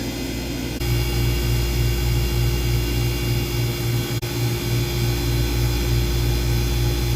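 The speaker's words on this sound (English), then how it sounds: "So in theory, this should be applying power to this little motor." A small harvest assist motor on a Scotsman ice machine switches on within the unit's steady mechanical hum, bringing a pulsing low drone that continues to the end, with a brief click partway through.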